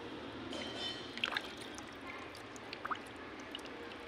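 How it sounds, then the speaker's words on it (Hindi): Water pours and trickles out of a plastic bottle in a soft, continuous gurgling stream with a few small splashy drips, fairly quiet and close, with no talking. "पूरा का पूरा पानी बाहर हुआ"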